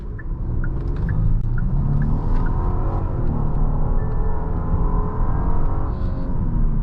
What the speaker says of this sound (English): Let's pop it into sport mode for our little acceleration up here.